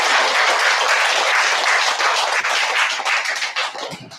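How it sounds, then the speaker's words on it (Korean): A church congregation applauds with loud, full clapping that stays dense for several seconds, then thins slightly toward the end. "함께 큰 박수를 부탁드리겠습니다"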